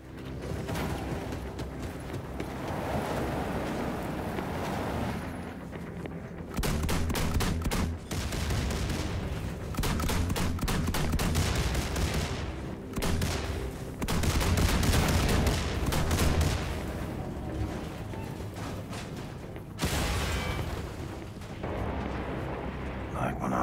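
Repeated bursts of gunfire in Wolfenstein II: The New Colossus, loud and close, with heavy volleys separated by short pauses and a dense, booming low end throughout.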